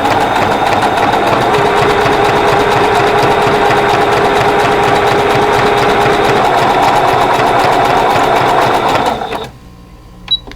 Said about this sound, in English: I'm just going to zigzag all the way off the end